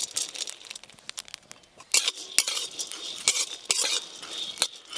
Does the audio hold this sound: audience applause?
no